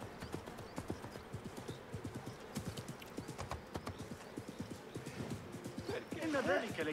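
A horse's hooves clip-clop in a steady trotting rhythm in the video game Assassin's Creed Mirage, with people talking over the hoofbeats and a horse whinnying near the end.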